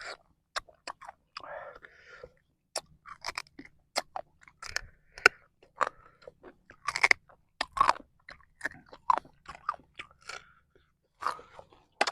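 Hard field crab shells crunched while eating spicy papaya salad with wide noodles, close-up sharp cracking bites and chewing in irregular bursts, with quiet whispered speech between them.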